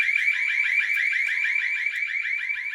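A loud, continuous building alarm blares inside a commercial baseball training facility, pulsing with rapid repeating warble tones throughout.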